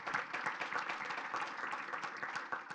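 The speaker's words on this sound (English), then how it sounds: "Carl deserves a round of applause." An audience gives a round of applause for Carl Quindle at a Milwaukee transit program, the clapping faint and distant but continuous, with individual claps audible in the wash.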